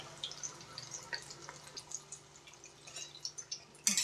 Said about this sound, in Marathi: म्हणजे तेल जर असेल तर निथरून जाईल खाली.